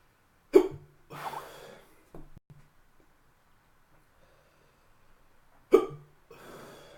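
Sharp, loud hiccups from someone who has just eaten a Carolina Reaper chip: one at the start and another near the end, with softer breathy gasps and small throat sounds between them in an otherwise quiet room.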